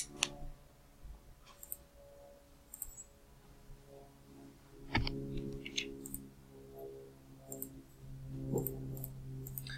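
Computer keyboard typing and mouse clicking while entering a linear programming problem into Excel's Solver, with sparse, close, sharp clicks and key taps in irregular bursts over a quiet room.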